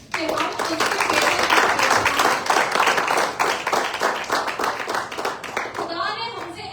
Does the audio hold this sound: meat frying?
no